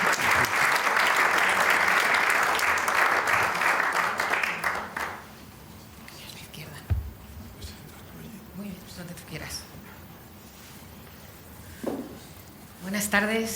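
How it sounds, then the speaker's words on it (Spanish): Auditorium audience applauding guests at a cultural talk, loud sustained clapping for about five seconds that stops abruptly, followed by quiet room noise, shuffling and a few brief voices. "Un aplauso para ellos"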